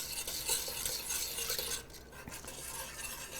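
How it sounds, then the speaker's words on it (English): Vegan hot chocolate with alcohol-free vanilla extract being whisked in a pot, a quick continuous rattling swish of the whisk against metal, fairly quiet and steady, with no talking. "I'm going to give this a whisk"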